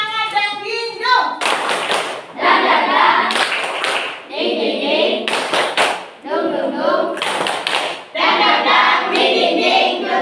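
Schoolchildren in a classroom perform a rhythmic clapping chant, with loud bursts of synchronized hand claps alternating with chanted group voices, close and lively.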